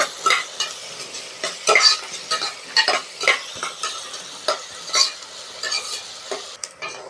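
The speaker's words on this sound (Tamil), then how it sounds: "சின்ன வெங்காயத்தோட பச்சை வாசம் போகிற வரையும் வதக்கிக்கலாம்." Small onions, shallots for a mutton curry, sauté in a pan with repeated spoon scrapes and stirring strokes over a soft, steady sizzle, close and fairly quiet, with no talk.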